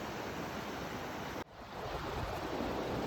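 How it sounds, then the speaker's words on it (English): A river flows through a Swiss mountain town center below the Matterhorn, a steady broadband rush of water that fills the clip, with a brief dip in the middle before the roar returns. "You have this river that flows through all of the city center."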